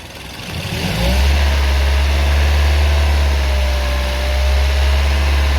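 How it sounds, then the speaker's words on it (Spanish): A car engine rises from idle to a steady 2000 RPM during a charging system diagnosis, a loud, close, continuous drone that climbs in the first second and then holds. "ahora vamos a incrementar a 2000 RPM"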